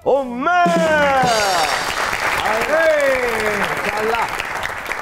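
Studio audience applause greets guest Zainab Umar on a comedy talk show, a continuous clapping wash under a host's loud, drawn-out announcing voice.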